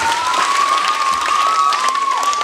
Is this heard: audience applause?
yes